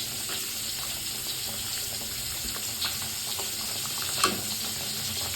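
Fish curry with poppy seeds bubbling in a pan, giving a soft continuous sizzle with small pops and one brief clink, close and fairly quiet; no talking.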